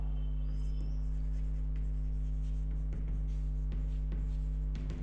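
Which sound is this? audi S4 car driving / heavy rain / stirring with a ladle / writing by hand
writing by hand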